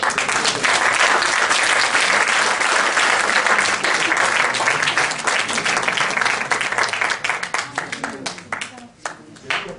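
Audience applause at the close of a talk on improving life after disasters, a dense, loud wash of many hands clapping that thins out into scattered claps near the end.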